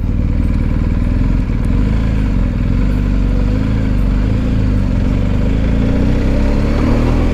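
A BMW R 1250 GS flat-twin motorcycle rides at low speed, its loud, steady engine drone close up and continuous, mixed with rushing wind noise and no speech.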